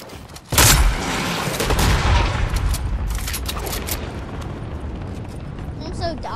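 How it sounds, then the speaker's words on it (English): Heavy gunfire in a video game, starting with a loud sudden burst and continuing as dense, rumbling fire with booming blasts that slowly thin out, with a voice partly under it. "They're shooting."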